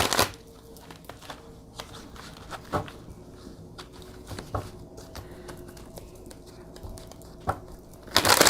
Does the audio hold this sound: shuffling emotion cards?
yes